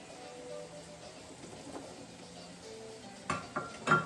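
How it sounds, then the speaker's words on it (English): Carrots and celery tumble into a pot of nearly boiling turkey albondiga soup, a low kitchen bed giving way to a few sharp clattering splashes and knocks near the end. "First I'm going to add the carrots and the celery."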